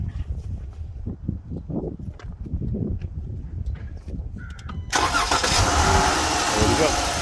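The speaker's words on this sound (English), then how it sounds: "Now he'll put his foot on the brake to start the car." A 2017 Dodge Charger 3.6L engine with a newly installed cold air intake cranks and catches partway through, then settles into a loud steady run, following a stretch of talking and handling noises.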